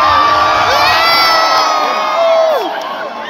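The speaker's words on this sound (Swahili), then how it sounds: "Wase kama unapenda Yesu wapige kelele." A large crowd at a gospel concert performance at Zetech screams, shouts and cheers loudly and continuously, with high-pitched whoops from younger voices rising above the steady roar.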